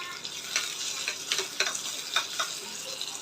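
Onions and curry leaves sauté in a pan, a faint continuous sizzle dotted with small crackles and pops spread unevenly throughout, no voices present.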